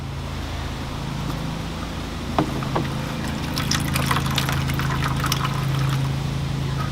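A weeping willow bonsai is lifted out of a pot of water: a soft knock and slosh, then a spreading run of drips and trickles pattering back into the water, close and fairly quiet over a low background hum.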